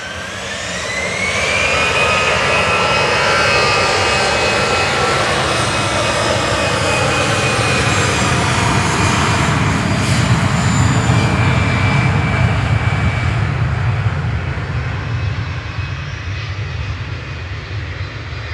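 An EasyJet jet airliner departing Manchester Airport for Amsterdam produces a loud, sustained engine roar with a rising whine at the start, holding steady before easing slightly at the end, with no talking.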